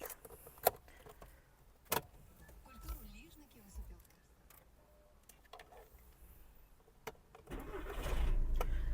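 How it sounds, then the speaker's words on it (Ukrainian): A 2012 Skoda Octavia Scout diesel engine cranks and starts, settling into a low steady rumble after several clicks and key sounds inside the car, while someone talks. "Дізель працює хорошо."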